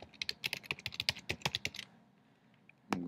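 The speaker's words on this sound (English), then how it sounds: "So I'm going to go ahead and type in the address for the secure" Quick keystrokes on a computer keyboard typing a web address on a Mac, a close, crisp burst of clicks for about two seconds followed by a pause and one final louder tap.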